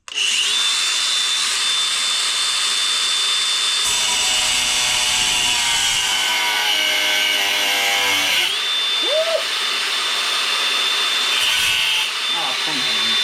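A cut-off wheel grinding through metal on an 89 Suburban, a loud continuous high whine with a rough scraping edge that shifts in pitch as the cut goes on, close and alone.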